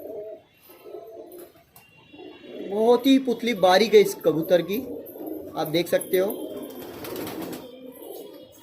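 Highflyer pigeons coo in a loft, soft low throaty calls at first, then under someone talking close by through most of the clip.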